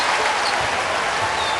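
Basketball arena crowd at a Cincinnati home game against Marquette, a loud dense roar of cheering and applause that fills the whole moment without letup.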